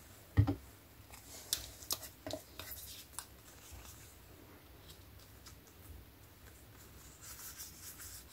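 Scissors cut through paper card in a handful of crisp snips and rustles early on, then quieter paper handling and faint taps fade into near silence.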